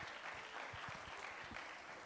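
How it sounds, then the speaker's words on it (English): Graduates at a convocation receive audience applause, a soft, distant patter of many hands clapping steadily across the whole moment. "can we please give a round of applause for yourselves for all the hard work that you all have been doing this past"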